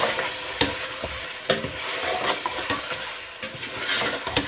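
Turmeric, dried coriander and chicken are stirred in a hot pan, a steady sizzle and fry running throughout with soft scraping strokes at irregular intervals, close and moderately loud, with no voices.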